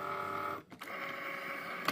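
A Cricut cutting machine trying to load its mat gives a steady quiet motorized whir, a brief dip and clunk partway through, then the hum resumes alone.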